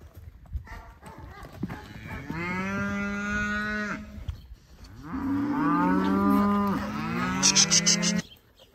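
Calves bellow during cattle work in a chute with a working horse nearby: two long, loud, close moos, each a drawn-out cry with a short pause between, and no talk.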